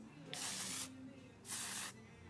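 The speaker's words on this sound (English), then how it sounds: "this stuff comes out of the can pretty strong to work its way up into your hair" Texture spray hisses out of an aerosol can onto hair in two strong half-second bursts separated by a short pause, close and clear with no talking.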